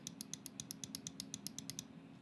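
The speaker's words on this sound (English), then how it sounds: "Right click." Right button of a computer mouse worn from heavy gaming, clicked about fourteen times in a quick, even rhythm; crisp, close, quiet ticks over faint background hiss.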